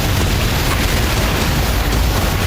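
A missile weapons test produces a loud, sustained roar of blast and rumble, dense and unbroken throughout, with no voices.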